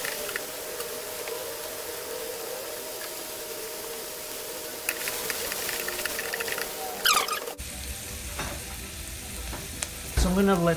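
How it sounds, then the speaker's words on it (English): Ingredients sautéing in a saucepan for Sicilian tomato pasta sauce, a soft, even sizzle with stirring scrapes growing busier toward the end and some louder utensil knocks near the close. "I'm going to give that a little bit of a stir, and I want to slightly cook it so it becomes slightly translucent."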